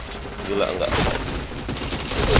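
Rapid gunfire rattles through a video game match, dense bursts of shots scoring headshots at close range, with a voice speaking over the shooting.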